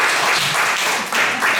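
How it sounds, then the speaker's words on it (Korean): A lecture audience breaks into a short, dense burst of applause: many hands clapping at once, loud and close, lasting under two seconds with no speech over it. "박수 한번 치고"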